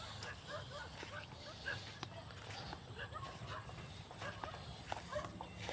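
Dog barking and yipping outdoors near a field being plowed for sweet potatoes, a few scattered sharp yips over a faint, noisy background with low murmuring voices.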